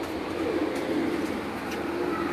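Low, rolling coos from rooftop breeder pigeons continue without a break, close by and fairly loud, over a steady background hum.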